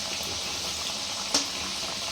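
Raw banana kofta frying in oil over a medium flame makes an even, continuous hiss with one brief pop partway through. There is no talk.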